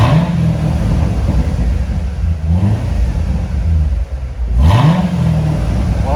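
A 2019 Corvette Z06 3LZ idles with a deep, loud rumble close by, then its engine revs and rises in pitch twice before settling back to idle.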